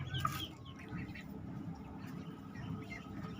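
A duck with seven Muscovy ducklings gives soft, faint clucks and chirps, with sparse calls over a low, quiet background.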